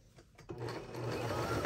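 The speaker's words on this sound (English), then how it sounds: "I'm going to start sewing" A sewing machine stitches fabric for a handmade necktie, starting up after a brief pause and then running as a steady, close mechanical whir.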